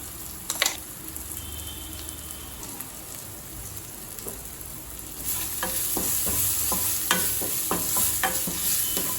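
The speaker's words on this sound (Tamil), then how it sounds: "எல்லாத்தையும் சேர்த்துட்டு லேசாக வதக்கினா போதுங்க." Ground garlic and pepper are sautéed in a pan with a crackling sizzle that grows louder and busier halfway through, broken by sharp spoon scrapes and stirs.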